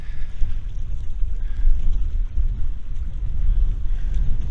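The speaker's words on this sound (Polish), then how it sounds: "Ale wieje." Strong wind buffets the microphone atop a tower in Hamburg, a loud, steady low roar with gusty swells and no voices.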